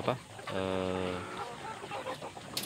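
A laying hen clucks and gives a drawn-out squawk nearby, with faint background noise from a farm of about 600 laying hens.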